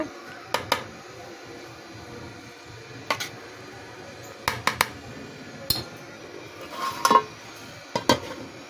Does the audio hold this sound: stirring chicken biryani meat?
yes